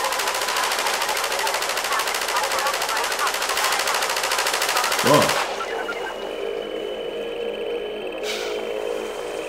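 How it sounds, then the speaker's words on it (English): Machine gun fire in the video game Half-Life 2 roars in a dense, rapid, unbroken burst for about five seconds, then cuts off and leaves quieter game sounds, with voices faintly present. "Oh, you get on the machine gun."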